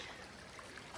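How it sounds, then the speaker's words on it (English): Hauser Creek on the Pacific Crest Trail runs clear and cold, giving a steady, close hiss of water trickling over stones that holds evenly for about a second, with no voices. "clear, cold running water"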